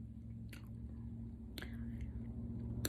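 Close-up chewing of Goli apple cider vinegar gummies, with soft, moist, squishy mouth sounds and a couple of brief crisp transients over a steady low hum.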